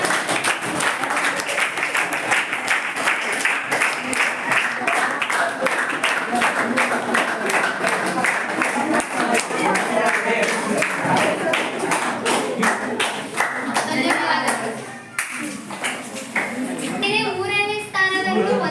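Applause for a school quiz team at a 10th-grade social science class quiz, a long, loud patter of many hands clapping densely, with scattered children's voices and taps; it thins near the end as claps become sparser.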